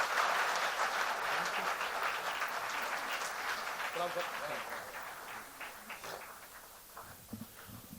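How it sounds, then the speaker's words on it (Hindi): Audience applause at a kavi sammelan and mushaira poetry gathering, dense clapping that gradually thins and fades, with a few scattered claps and a voice near the end. "एक बार ज़ोरदार तालियां।"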